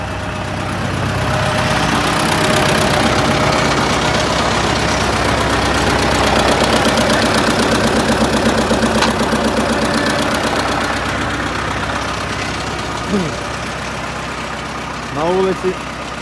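An MTZ-80 tractor's diesel engine idles with a steady, knocking chug throughout, loud and close, with brief squeaky mechanical sounds near the end.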